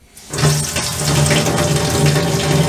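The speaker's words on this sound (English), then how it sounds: "Turn the water on and then it'll light up." A water tap in a plumbed storage shed fitted with a tankless electric water heater turns on, and a steady loud gush of running water follows, close by and alone.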